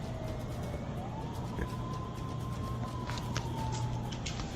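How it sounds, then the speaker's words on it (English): An ambulance siren wails as it pulls up to a defunct hospital, a faint, steady rising-and-falling tone heard at a distance over a constant low traffic rumble, with brief clicks near the end. "he hears an ambulance pull up to the defunct hospital"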